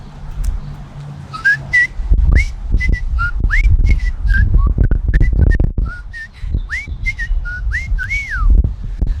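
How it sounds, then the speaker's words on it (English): A person whistles with the mouth open, producing a loud, close melodic run of rising and falling notes with short chirpy slides, steady throughout and with no speech. "And so I whistle with my mouth open"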